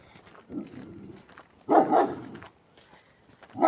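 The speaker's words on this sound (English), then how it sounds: "it's written that the doggy is angry because, of course, it's angry because it's chained" A chained, angry dog barks in a couple of loud bursts at close range, with quieter rustling and footsteps between them on an outdoor forest walk.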